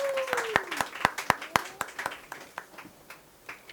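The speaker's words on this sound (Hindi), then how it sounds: "ताली बजाओ इन लोगों के लिए।" An audience claps at a Hindi-language Bible study gathering, a quick burst of loud, close hand claps that thins into scattered claps after about two seconds, with a short voice briefly heard at the start.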